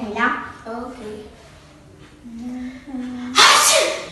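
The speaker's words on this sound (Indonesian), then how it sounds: "Nggak gitu cara bersin bro." A voice talks, then a sudden loud sneeze bursts out close to the microphone at the end, part of an animated lesson on coughing and sneezing etiquette.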